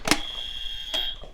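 A quiz buzzer on a French radio show sounds twice, each press a sharp burst followed by a steady electronic tone that holds for about a second, close and fairly loud.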